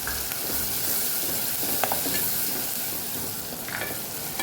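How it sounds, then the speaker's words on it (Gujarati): Chopped tomatoes with turmeric and red chili powder sauté in a pan for a Kathiyawadi guvar-potato curry, a steady close sizzle with occasional scrapes of stirring, no voices. "સરસ આપણે સાતળી લેશું"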